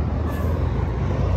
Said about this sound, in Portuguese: Saindo aqui mais um viação Águia Branca de São Paulo para Vitória da Conquista.